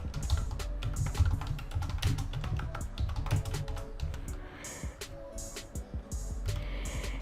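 Keys on a computer keyboard clatter in quick, uneven bursts of close, crisp taps, with brief pauses between runs.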